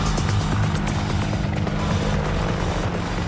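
An Army Apache Longbow military attack helicopter roars loudly and continuously, its rotor and engine noise filling the scene without pause.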